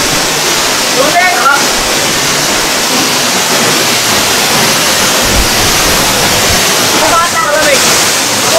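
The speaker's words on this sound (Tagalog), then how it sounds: "Tubig!" Broadband roar of Agbokbok Falls in Paluan, Occidental Mindoro, a steady rushing cascade close by with people's voices calling out intermittently over it.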